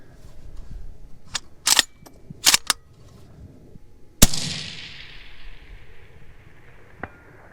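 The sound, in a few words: UPR15 gas gun shots and round impact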